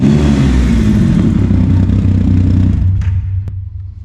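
A Triumph Rocket 3 motorcycle fitted with a US Works exhaust idles loud and close with a deep, steady rumble for about three seconds, then quietens and tapers off near the end.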